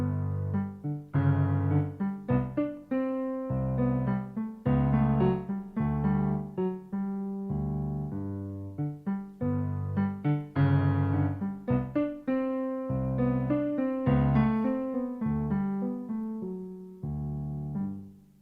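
The orchestral cat theme from Peter and the Wolf: a low, sly melody in short detached phrases with soft pauses, played steadily throughout.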